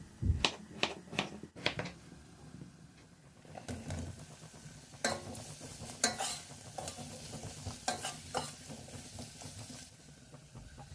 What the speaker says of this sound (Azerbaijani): İki ədəd kartofu da doğrayıb bura əlavə edirəm.